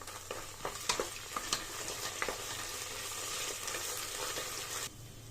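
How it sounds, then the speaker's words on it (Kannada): Onions with ginger-garlic paste fry in a pan for Ambur-style kushka, a steady close sizzle broken by scattered sharp crackles and spoon-stirring taps, with no talking. "ಈಗ ನಾವು ಒಂದು ಟೇಬಲ್ ಸ್ಪೂನ್ ಆಗೋಷ್ಟು ಶುಂಠಿ ಬೆಳ್ಳುಳ್ಳಿ ಪೇಸ್ಟ್ನ ಹಾಕೋಣ ಹಸಿ ವಾಸನೆ ಚೆನ್ನಾಗಿ ಫ್ರೈ ಮಾಡ್ಕೊಳ್ಳಿ"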